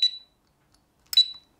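A Kovix KNX-6 disc brake lock with motion alarm gives two short, high electronic beeps, separated by a long pause, close and clear with nothing else around them.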